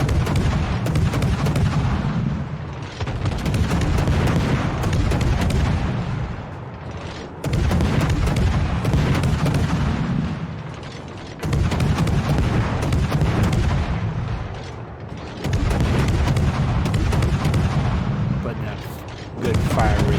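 Naval guns firing high-explosive shells in a video game, loud repeated booming salvos in long roaring bursts separated by brief lulls, with mechanical clanks between shots.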